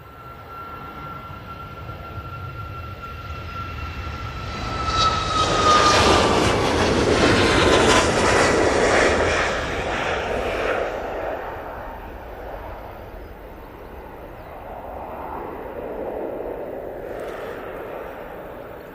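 A Ryanair Boeing 737 MAX 8 takes off from Manchester Airport, its jet engines building into a loud, broad roar with a rising whine, then easing off as it climbs away into a steady fading rumble.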